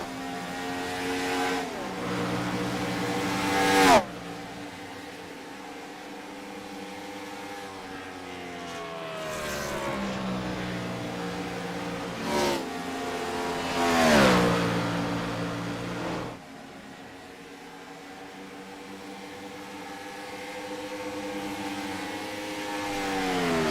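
IROC Challenge Series race cars roar around a Chicago track at night, engines revving and sweeping past with rising and falling pitch, several cars passing in loud waves.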